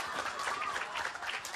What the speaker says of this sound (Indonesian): tepuk tangan dulu buat adik-adik